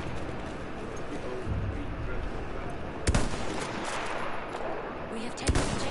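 Sniper rifle shots crack in Battlefield 1 during a forest firefight, two sharp isolated reports a few seconds apart over a constant battlefield rumble with a voice talking.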